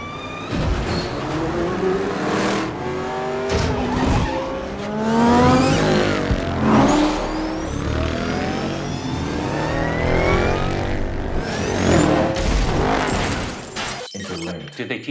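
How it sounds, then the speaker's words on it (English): Race cars roar and rev through a film racing sequence, engines sweeping up and down in pitch with squealing tire skids layered over a dense, loud mix that cuts abruptly near the end. "this racing scene is without doubt one of the most used sequences in terms of home cinema demonstrations"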